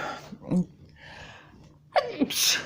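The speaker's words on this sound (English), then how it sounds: "That is not my normal sneeze." A single sudden sneeze near the end, preceded by quiet breathing and a soft vocal sound.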